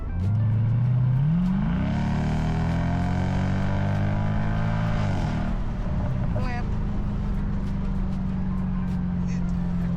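A car engine roars at full throttle, its pitch climbing steadily and then holding at a high, loud drone; a voice briefly speaks over it.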